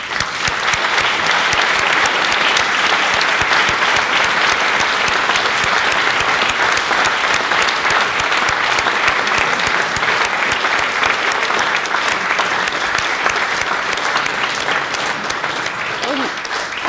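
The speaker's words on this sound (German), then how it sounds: "können Sie bitte unseren Panelisten danken mit Applaus." An audience at an evening panel talk claps in long, dense, sustained applause that holds at a loud even level, with a faint voice near the end.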